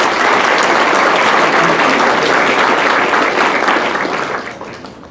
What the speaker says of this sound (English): You might want to give yourselves a round of applause.